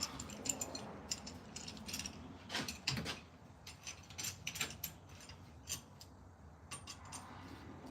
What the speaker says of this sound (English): And then I'll put this clamp on.